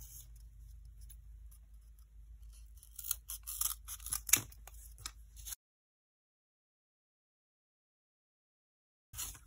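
Scissors snipping through cardboard pieces cut for a homemade maze, a run of close, crisp snips and crunches over a low hum for about five seconds, then silence before a brief return.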